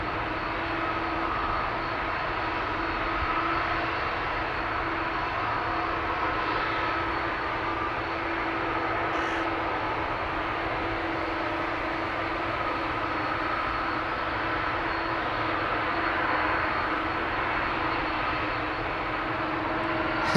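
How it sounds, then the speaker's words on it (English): KLM Embraer E195-E2 jet taking off from Amsterdam Schiphol, a steady broad engine roar with a sustained low hum, heard from a distance and unbroken for the whole stretch with no speech. "E2 Embraer 195, next to take off here"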